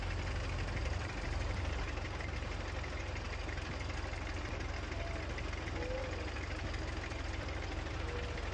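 An Allis Chalmers tractor engine in Farming Simulator 19 runs at a steady, even idle with a constant low drone and faint mechanical vibration throughout, and no voices.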